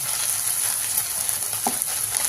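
Ginger-garlic paste frying in a pan for a fenugreek-leaf chicken curry, a steady soft hiss of oil sizzling throughout with a faint stir or tap near the end, no talk.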